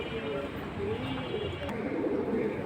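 Pigeons cooing softly in a loft of high-flying pigeon breeds such as silver, khaki and military varieties, a low continuous murmur of coos with some background chatter or noise throughout.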